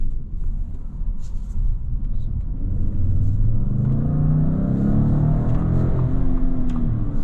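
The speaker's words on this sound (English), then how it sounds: "As always, we can go for a short acceleration run, nothing too fancy because we are in the city" A 2022 Lincoln Navigator Reserve in sport mode accelerates through the city, its engine rumble rising steadily in pitch from inside the cabin, loud and continuous for several seconds.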